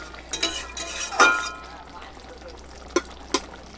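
A curry is stirred and mixed in a pan, with a few scraping strokes and metallic clinks of a spoon against the pan over a faint background sizzle and hum.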